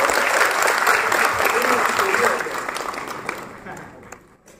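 Audience at a graduation ceremony in Abu Dhabi applauds with a full, sustained clatter of clapping that holds strongly for about two seconds, then thins and fades away.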